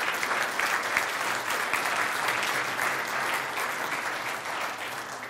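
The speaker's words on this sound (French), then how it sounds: "Merci Martin, on peut l'applaudir." Attendees at an education conference on innovation in building and public works training applaud a speaker, a full, even roomful of clapping that runs steadily for over five seconds and gradually tapers at the end.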